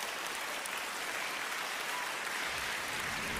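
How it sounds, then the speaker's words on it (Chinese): A theatre audience applauds steadily at a televised Chinese opera stage show, dense continuous clapping from a large crowd with no talk over it. "来，我们掌声欢迎。"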